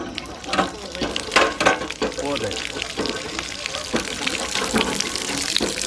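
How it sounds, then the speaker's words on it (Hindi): Water gushing from a hand-operated pump machine at a dairy in northern Pakistan, splashing in uneven surges as the handle is worked, while someone speaks briefly over the flow. "अब मैं आपको ये पानी निकाल के भी दिखाता हूँ"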